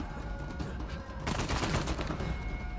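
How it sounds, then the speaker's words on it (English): Gunfire in the video game Uncharted 4: a steady wash of game ambience gives way to a dense, loud volley of rapid shots that keeps crackling through the rest of the clip. "Stop shooting at us."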